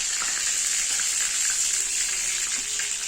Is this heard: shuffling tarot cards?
no